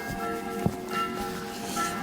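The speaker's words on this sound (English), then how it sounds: "Get used to the sound of the beautiful bells here in Belgium." Church bells ring in Belgium, faint and distant, with soft tonal peals under outdoor background noise and one brief nearby knock.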